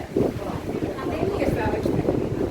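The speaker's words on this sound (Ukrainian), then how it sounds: "вітер е, досить сильний сьогодні" Heavy wind at a beach in Durrës, Albania, buffets the microphone with a continuous low roar, and a voice can be heard under the gusts.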